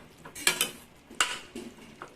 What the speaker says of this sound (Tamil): அப்பப்போ லிட் எடுத்துகிட்டு கலரி கொடுத்துக்கோங்க